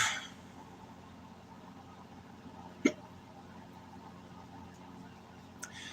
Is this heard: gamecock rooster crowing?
no